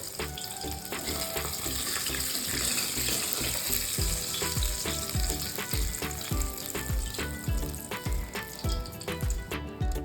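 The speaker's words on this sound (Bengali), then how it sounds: "এই দুটো মাছও আমার ভাজা হয়ে গেছে।" Pabda fish fry in hot oil with a constant close sizzle and crackle, while utensils clatter and tap rhythmically against the pan throughout.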